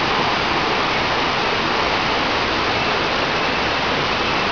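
Loud, constant rush of a flowing river at FRIM Kepong, a dense unbroken roar with no voices or pauses.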